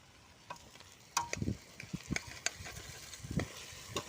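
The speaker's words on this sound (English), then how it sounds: "Let's give that a quick stir." A utensil stirs chicken stew with white beans in a pot, giving soft scraping and knocking taps over a faint simmering sizzle, close and fairly quiet with no talking.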